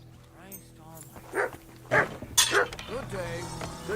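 A dog in the video game Kingdom Come: Deliverance 2 gives a few short barks and yips, close and moderately loud, mixed with in-game voices and a faint steady background hum.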